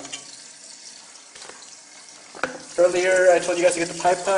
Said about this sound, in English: While the spam is cooking